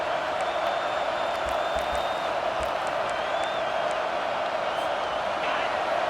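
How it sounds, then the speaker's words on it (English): A football stadium crowd roars for the defense on third down, a dense, steady wall of cheering and noise that stays constant throughout, with a few whistles and scattered claps poking through. "Decibels rising as the crowd gets behind this defense on third down"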